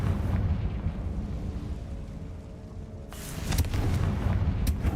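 A Confringo blasting spell goes off in Hogwarts Legacy, a loud low rumbling blast followed by a sharp burst and crackling debris, with steady game background noise throughout.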